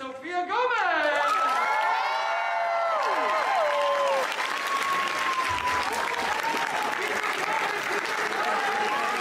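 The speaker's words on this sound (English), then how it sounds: "A big round of applause for Sophia Gomez!" Crowd applause and cheering at a convention stage for a performer, loud and sustained, with shouted voices and whoops over dense clapping throughout.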